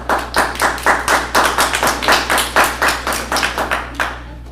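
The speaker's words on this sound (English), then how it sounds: "Way to go, we don't get applause." A small group claps for a city council vote, giving a steady run of close, fairly loud handclaps that taper off after about four seconds.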